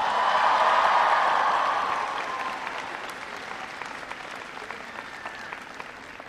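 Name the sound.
audience applause for members of Congress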